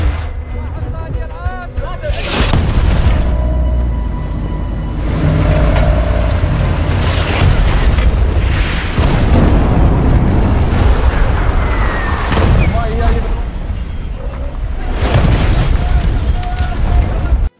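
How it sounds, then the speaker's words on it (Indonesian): Mortar shell explosions in a war film: repeated deep, heavy booms every few seconds over a dense rumbling battle bed, with a narrator speaking over them. "Sementara pihak musuh yang melihat hal itu, mereka menyiapkan serangan jarak jauh dengan senjata mortir."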